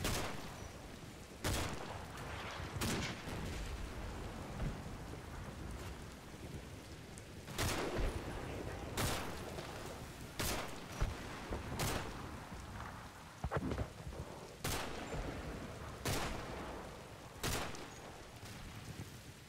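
Bursts of gunfire from a soldier's rampage against a small group of German troops in the Combat Mission: Battle for Normandy war game, sharp cracks at irregular intervals over a steady rain-like wash of battlefield noise.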